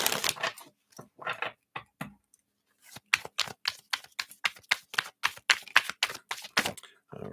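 Tarot cards being shuffled by hand: sharp crisp snaps and riffling clicks in uneven bursts, close and clear, with short pauses between flurries and no talking over them.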